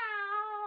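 A single drawn-out cat meow, steady and clear, lasting under a second with no other sounds around it.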